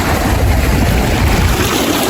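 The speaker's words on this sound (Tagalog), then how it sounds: "Ito yung dagat dito mga boss." Sea waves along a clear, clean stretch of coast on a road trip between Negros Occidental and Negros Oriental, a steady low wash of surf mixed with wind rumble on the microphone, continuous and fairly loud throughout.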